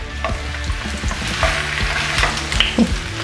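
Oil sizzling in a frying pan while the contents are stirred, with a steady close hiss broken by frequent spatula scrapes and knocks against the pan during gluten-free pizza preparation, no talking.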